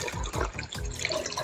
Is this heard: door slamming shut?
no